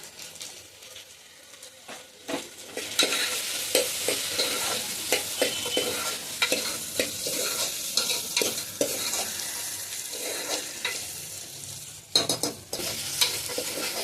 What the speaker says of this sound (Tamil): அதுவும் கூட சேர்ந்து கரெக்டான அளவில் ஃப்ரை ஆகும்